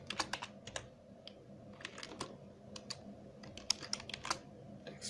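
Text being typed on a computer keyboard in quick irregular bursts of close, crisp key clicks with short pauses, fairly quiet and without talk.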